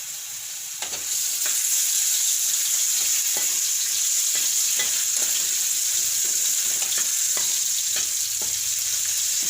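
Potatoes tipped into hot oil where mustard seeds have already spluttered, giving a loud, continuous frying sizzle with scattered pops and crackles, no voices.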